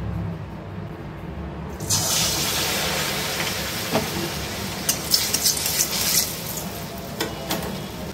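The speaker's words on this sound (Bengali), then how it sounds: "গ্যাসে কড়া বসিয়ে দিয়েছি, কড়াই দিয়ে দিয়েছি সাদা তেল বেশ অনেকটা। এবার কাঁকরোলগুলোকে ভেজে নেব।" Pointed gourds (kakrol) frying in plenty of hot white oil in a wok on a gas stove: after a quiet start, a loud, steady sizzle bursts in and carries on with scattered crackles and spits.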